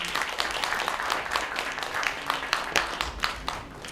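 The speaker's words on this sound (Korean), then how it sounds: "여러분 큰 박수 부탁드립니다." Audience applause at a peace-day seminar, a steady wash of many hands clapping throughout, dense and fairly loud in a large hall.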